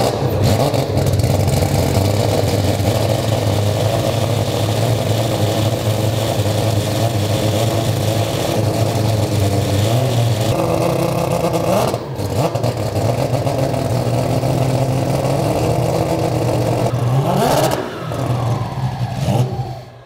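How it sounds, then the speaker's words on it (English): A turbocharged four-rotor rotary engine runs loud and close, a dense buzzing idle with brief blips of revving and rising turbo whine, continuous for about twenty seconds. "The turbo sounds sick."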